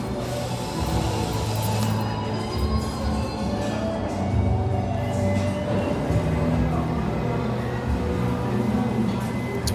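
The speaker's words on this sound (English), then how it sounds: "we're gonna make our way out of the subway station here at 57th Street." Subway station at 57th Street in New York on New Year's Eve, with a dense, steady rumble of trains and station machinery and a constant mechanical roar filling the space, faint voices mixed in.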